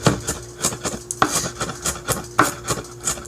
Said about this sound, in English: and finally chopping them.